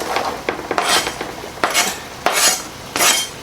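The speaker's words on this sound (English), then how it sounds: "that's kind of searing here and the butter's still melting" Chopped small yellow onion searing in melting butter in a pan gives a soft sizzle, broken by about six sharp scrapes and clinks of a utensil stirring against the metal, up close.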